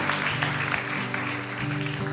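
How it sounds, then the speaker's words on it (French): Congregation applause at a Christian worship service, a steady, loud wash of clapping that fills the whole stretch with sustained music tones running underneath. "applaudissez bien fort le roi des rois"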